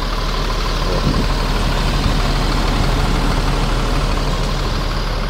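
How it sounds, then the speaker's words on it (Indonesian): A bus diesel engine idles close by, steady and smooth, a continuous low rumble with a constant hum and no pauses. "Halus sekali suara mesinnya."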